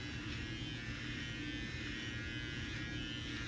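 An electric beard clipper trimming a goatee gives off a steady, close, low buzzing hum that holds constant throughout at a soft level, with no speech over it.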